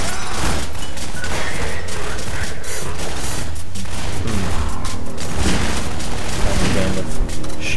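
Dense, continuous gunfire and explosive booms from a Half-Life 2 firefight, loud and sustained throughout with rapid overlapping shots and heavy thuds.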